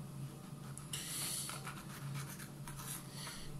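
Knife cutting into a 7 Pot All Star pepper, a short close scraping and slicing rasp in quiet bursts with no voices.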